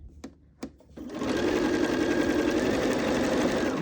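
A sewing machine stitches quilt pieces at normal speed. After a couple of short taps it runs into a steady, fast, loud whir that continues close by with no pause.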